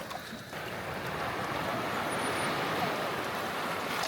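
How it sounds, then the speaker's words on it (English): Steady wash of water and wind noise fills the whole stretch, a continuous broad rush from waves gently lapping near the shore on a coast, with no voices. "the sound of the waves gently lapping against the shore"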